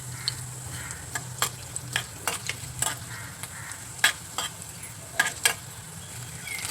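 Cumin seeds fry in a pan with roasting coriander seeds, giving a steady low sizzle dotted with sharp clicks and pops from stirring. It sounds close and fairly quiet, with no voices.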